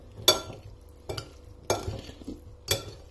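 Potatoes and wild garlic are stirred in oil in a pan with a utensil. Four separate scraping strokes sound close and fairly quiet, over a faint sizzle.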